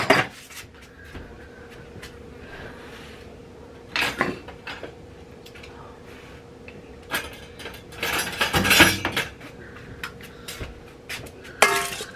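A big spoon clinks and scrapes inside a pot of onions on a country kitchen stove, with scattered metallic knocks, clatters and a brief rattling burst near the middle against a quiet background.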